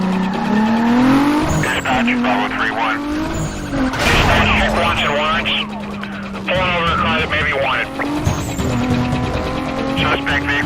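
A car racing at speed in Need for Speed: Most Wanted, with loud engine revving through gear changes and repeated tire squeals as it skids through turns, continuous over roughly ten seconds.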